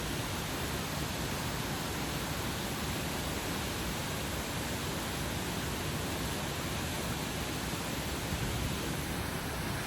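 A constant, full roar of a waterfall, loud and unbroken, with no voices or other sounds on top.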